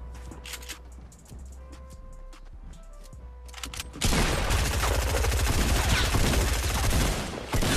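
Gunfire in the video game Fortnite: after sparse quiet game sounds, a sudden loud burst of rapid automatic shots fills the rest of the clip as a dense continuous barrage.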